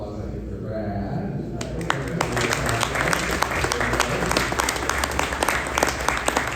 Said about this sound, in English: And a round of applause, I think, for Brad.